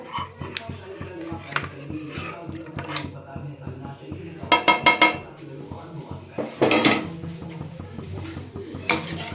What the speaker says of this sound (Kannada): ಇವಾಗ ಫ್ರೈ ಮಾಡ್ಕೊಂಡಿರೋಂಥ ಮೊಟ್ಟೆಗಳನ್ನ ಹಾಕ್ಕೊಳ್ಬೇಕು